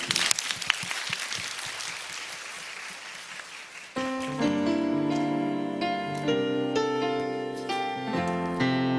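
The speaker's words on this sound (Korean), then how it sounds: "우리 하나님께 영광의 박수 올려드리겠습니다." A church congregation at a Korean Baptist youth worship service applauds loudly for about four seconds, then the clapping gives way to instrumental worship music that carries on to the end.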